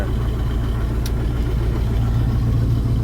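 A YuMZ tractor engine idles with a steady, loud low rumble heard from close by inside the cab, unchanging throughout with no talk.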